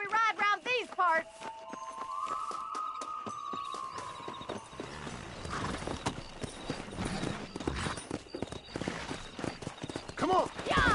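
Horses in the Red Dead Redemption video game clip-clop at a steady gallop, hooves pounding close and continuous under a score and shouting riders, with a brief whinny early on.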